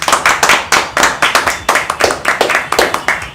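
Close, crisp hand claps in a steady rhythm, about two a second, from a small group celebrating reaching 100,000 subscribers, with no talk over them.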